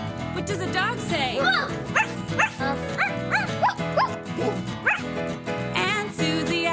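A voice imitates a dog barking, repeating a bouncy bow-wow over and over in rhythm over a children's music backing track.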